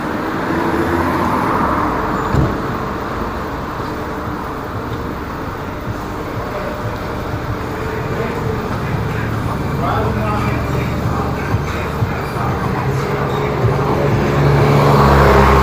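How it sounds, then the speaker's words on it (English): Continuous daytime street traffic heard while walking along a busy road, a steady wash of passing cars and engine rumble that swells slightly toward the end, with a person talking over it. "This street right here in front of us has mad traffic all day long."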